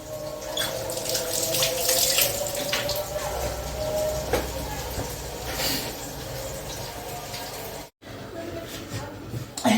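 Water runs or is poured steadily while steamed vermicelli seffa is being cooked, a close rushing flow lasting about eight seconds before a brief break, with a voice talking alongside.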